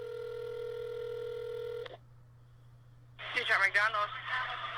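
A phone call to McDonald's: a steady ringback tone sounds, cuts off into a pause, then a voice answers on the line.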